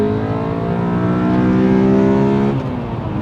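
A Honda Accord Euro R cruising along an open country road, its engine droning steadily with a rising, evenly sustained note that eases off near the end, heard from inside the car with no talking.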